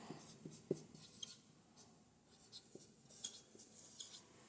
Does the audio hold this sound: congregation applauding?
no